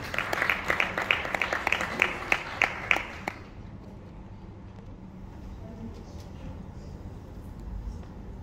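A small audience claps for a speaker at an awards ceremony, distinct claps close by for about three seconds, then stopping abruptly and leaving a quiet room hum.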